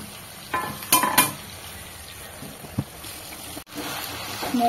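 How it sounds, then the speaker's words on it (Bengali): Spices fry in a pan for gondhoraj lemon pepper chicken, a low sizzle broken by a few sharp scraping stirs and metallic clinks of the spoon. "মশলা খুব ভালো করে ভাজা হয়ে গেছে"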